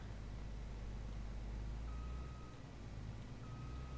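A truck reversing to hitch a harvester header onto a trailer on a farm, its backup alarm giving two faint, steady beeps over a low engine rumble.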